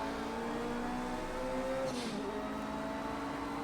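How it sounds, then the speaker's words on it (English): A Nissan R89C LM race car at Le Mans in Project Cars 2 holds a steady high-pitched engine drone near the rev limiter, a constant buzzing whine with a brief rising swell midway. "Revving the car beyond the limiter a little bit."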